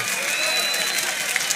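A crowd claps at a Brazilian rap battle, a dense continuous wash of applause mixed with crowd noise, steady and moderately loud for a brief moment.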